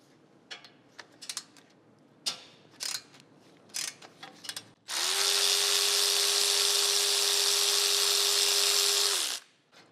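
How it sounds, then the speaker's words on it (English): A few scattered ratchet clicks and taps give way to a loud, steady mechanical whir lasting about four seconds as a 14 mm pinch bolt is loosened on a Subaru WRX STI front suspension; the whir cuts off abruptly. "we're going to start by removing our pinch bolt. Our pinch bolt is a 14 millimeter."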